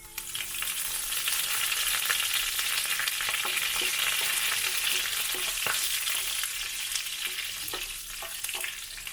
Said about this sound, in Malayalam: നമുക്ക് ഇതിലേക്ക് ഉണക്കമുളക് ചേർത്ത് കൊടുക്കാം അതോടൊപ്പം തന്നെ കറിവേപ്പിലയും ചേർത്ത് കൊടുക്കാം